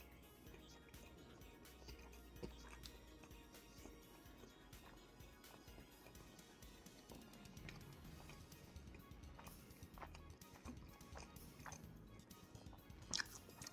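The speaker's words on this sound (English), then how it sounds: "Let me finish chewing first." A bite of Portillo's Chicago fast food is chewed up close, soft wet munching and faint crunches continuing steadily at a low level with no talk.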